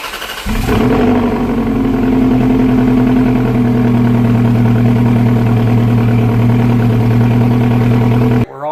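Ferrari 360 Modena engine, just refilled with Amsoil motor oil, cranks and fires at about half a second, then settles into a loud, steady, even idle close by that continues until the sound cuts off near the end.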